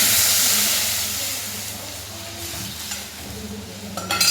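A mixed liquid for rasam poured into a hot pan with curry leaves, bursting into a loud hissing sizzle that slowly fades to a gentler bubbling, with a few clinks near the end.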